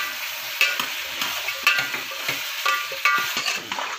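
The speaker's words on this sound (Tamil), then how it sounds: "இப்போ நல்லா காய் சேர்த்துட்டு நல்லா நம்ம ஒரு வதக்கு வதக்கி விட்டுறலாம்" Sambar vegetables sautéing in oil sizzle steadily, with repeated spatula scrapes and stirs every second or so, close up.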